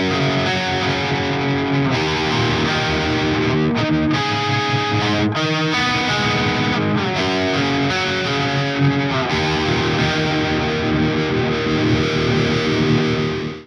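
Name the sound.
guitar through polyphonic pitch shifter set four semitones down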